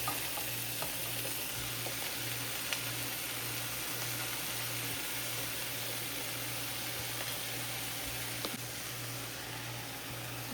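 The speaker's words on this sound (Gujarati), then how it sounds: "એટલે એમાં નાખી દઈએ બધું પાલક." Spinach tipped into a pan of frying garlic and chillies gives a steady, moderate sizzle that runs evenly throughout with no talking.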